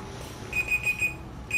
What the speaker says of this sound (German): Das war nur der Timer.